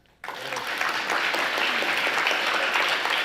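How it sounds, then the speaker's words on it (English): Applause from the audience at a community celebration breakfast honoring Martin Luther King Jr., cheering the event staff: dense, steady clapping that starts abruptly and holds at full strength throughout. "I want to give everybody who put in this hard work another round of applause."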